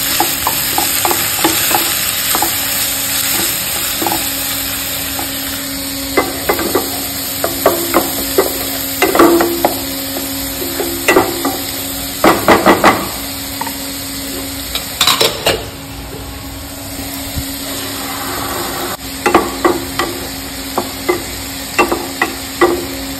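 Mixed potato, carrot and peas fry in a pan with a continuous sizzle, broken by sharp clinks and scrapes of a spoon stirring against the metal at irregular moments.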